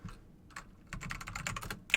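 Rapid keystrokes on a computer keyboard while code is written, a brief burst of close, crisp clicks that grows busier and denser toward the end, with no talking.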